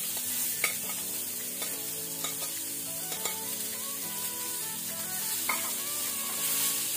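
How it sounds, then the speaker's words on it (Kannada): Finely chopped onions fry in a pan over medium flame with a steady close sizzle, broken by light clicks and scrapes of stirring and no voices. "ಇದನ್ನು ನಾವೀಗ ಒಳ್ಳೆ ರೀತಿ ಫ್ರೈ ಮಾಡಬೇಕು, ಗೋಲ್ಡನ್ ಬ್ರೌನ್ ಆಗೋ ತನಕ ಮೀಡಿಯಂ ಫ್ಲೇಮಲ್ಲಿ"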